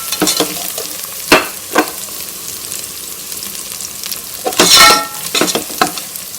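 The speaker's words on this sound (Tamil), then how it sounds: "இது நல்லா எண்ணெயிலேயே வதக்கி விட்டுருங்க." Turmeric, chili powder and curry masala powder sizzle and get stirred in hot oil for tomato rice, with a steady frying hiss broken by several sharp scraping stirs of the spoon against the pan, close and fairly loud.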